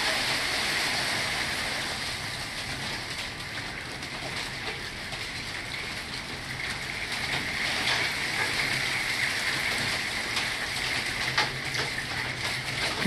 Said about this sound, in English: There might even be a little hail in with this.